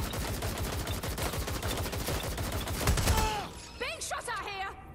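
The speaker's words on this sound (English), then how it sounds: "Being shot at here" Rapid automatic gunfire in the video game Watch Dogs: Legion during a boss fight, with a dense, loud burst of shots for about three seconds that then cuts off, followed by sharp chirping effects and a voice.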